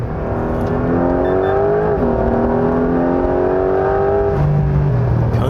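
A Porsche 911 GTS accelerates on a test drive, its engine note climbing steadily through the revs with a brief dip at a gear change, sustained and close with no talking.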